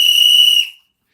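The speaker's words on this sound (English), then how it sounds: "Little baby doll whistle." A single sharp whistle blast rings out loud and close, holding steady for a moment before cutting off abruptly, followed by silence.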